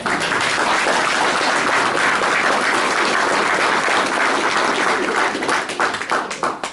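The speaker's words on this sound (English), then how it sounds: "So big round of applause for Westport in doing that." A large conference audience breaks into loud, sustained applause, a dense wall of clapping that carries on steadily before starting to thin out near the end.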